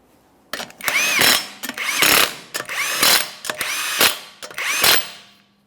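A power tool runs down the 21mm rear wheel lug nuts on a 2014-2019 Toyota Corolla, giving five separate whirring bursts, one per nut, each about half a second to a second long with short pauses between, loud and close.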